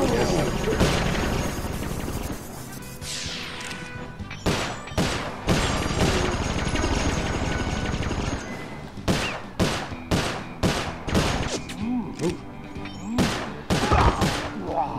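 Repeated sharp gunshots in the Sly Cooper 4 video game, arriving as scattered single cracks and then a quicker volley of loud, close bursts over a steady game background.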